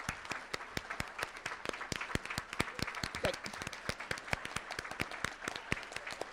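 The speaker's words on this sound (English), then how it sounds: "give Bethany Hall Long a round of applause" An audience claps at a Delaware Women's Hall of Fame induction ceremony, steady applause from a medium crowd in a hall, many sharp hand claps sustained evenly throughout.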